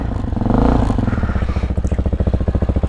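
An X-Pro Hawk DLX 250 motorcycle engine, fuel-injected and running on stale gas, idles up and then settles into a close, loud, evenly pulsing putter.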